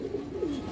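Pigeons kept as high-flying birds give a brief, soft cooing call close by, low and quiet against faint background noise.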